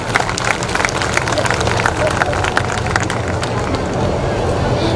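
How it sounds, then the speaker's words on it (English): An audience at a school annual function applauds as the chief guest is welcomed, sustained busy clapping mixed with crowd hubbub and scattered sharp claps, steady throughout at moderate level. "Please join me in welcoming Dr. Ankush Mittal with a huge round of applause."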